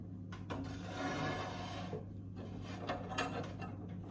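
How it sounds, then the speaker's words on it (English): Metal sizzle pan sliding and clunking into a hot Ovana pizza oven after its door is removed, a steady scraping and rattling of metal against the oven floor over a constant low hum, close and moderately loud. "I'm going to put my sizzle pan in,"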